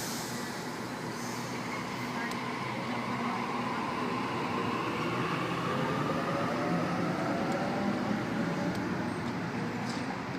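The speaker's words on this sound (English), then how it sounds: "T117 now departing platform 1 at Seven Hills" Sydney train pulling out of Seven Hills station, a steady broad rumble of wheels and motors with rising electric whine tones, loud and close throughout.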